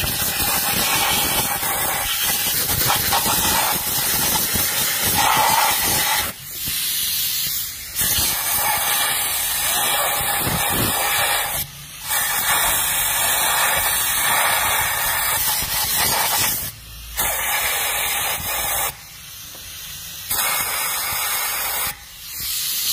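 Compressed air blasts around the spark plugs of a Volkswagen engine in loud, hissing bursts separated by short pauses, with an engine running underneath.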